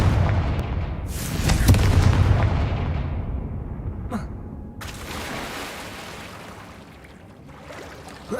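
A Confringo blasting spell explosion from the video game Hogwarts Legacy, a heavy booming blast that swells and decays over a couple of seconds, followed by sharp cracks and a second burst with a lingering rumble.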